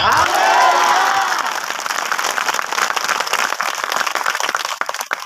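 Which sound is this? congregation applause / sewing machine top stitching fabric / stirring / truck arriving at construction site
congregation applause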